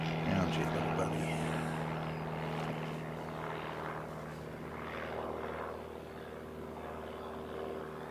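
Propeller aircraft engine droning steadily near a grass-side airfield viewing mound, a continuous moderately loud hum with a low tonal whine throughout, no speech in the foreground.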